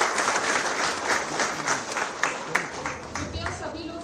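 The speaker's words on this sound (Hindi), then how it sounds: "एक बार फिर तालियों के साथ" Audience applause at a golden jubilee ceremony for Central Electronics Limited, a dense continuous patter of many hands filling the hall for several seconds, with a few sharper individual claps standing out.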